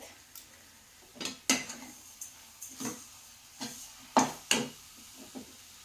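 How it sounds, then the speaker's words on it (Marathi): Wheat flour sheera with grated nutmeg stirred in a kadai: a spoon scraping and knocking against the pan in irregular strokes, several sharper clinks standing out, moderately close with no talking. "आता आपण हे व्यवस्थित मिक्स करून घेऊयात"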